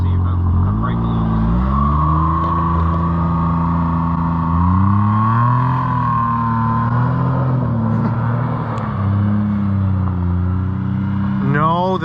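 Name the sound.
John Deere Gator side-by-side driving in a tight circle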